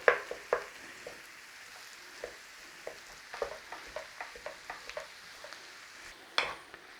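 Frozen ground beef sizzles softly in a single pan while a utensil breaks it up, with quiet scrapes and taps recurring every half second or so over a low steady fry, no talking.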